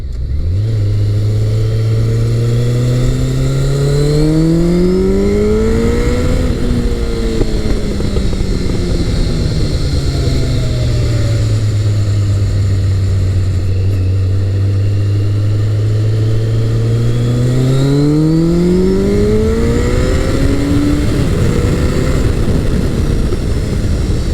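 A Honda CBR1100XX Blackbird motorcycle engine drones loudly while riding, its pitch falling and climbing through gear changes as it decelerates for corners and accelerates back out, with wind rushing steadily underneath.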